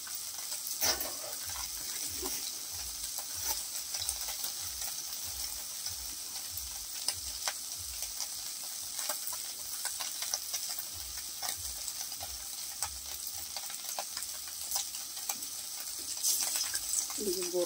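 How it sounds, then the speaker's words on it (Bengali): Small river fish sizzling in oil in a wok, a steady close fry with scattered stirring scrapes and faint background noise throughout. "মাছগুলোকে হালকা করে ভেজে নিয়েছে, কড়াইয়ের মধ্যে আর একটু তেল দিয়ে দিচ্ছে"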